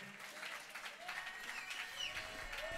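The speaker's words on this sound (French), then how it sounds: "sous vos applaudissements, ça va les encourager" Applause from an audience at a contest-style stage event as candidates are introduced, a steady dense patter of clapping lasting throughout with a faint murmur of the crowd beneath.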